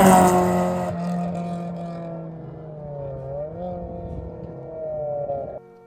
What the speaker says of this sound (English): Rally cars were doing a time trial.